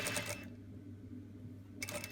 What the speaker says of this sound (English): Now just sew along the seam line that you just